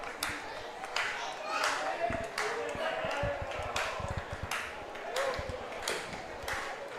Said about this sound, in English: Fans here at Labatt Park trying to cheer on the Majors.